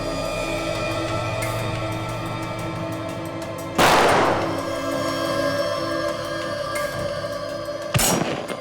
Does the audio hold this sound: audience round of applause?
no